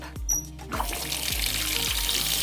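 Water pours steadily from a pipe-style faucet into a sink in an off-grid tiny house in South African wilderness, a constant rushing flow with a few low knocks.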